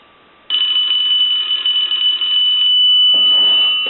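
A brass rotary telephone's bell rings loudly and continuously for a couple of seconds, then stops, followed by a softer metallic rattle as the bell keeps buzzing.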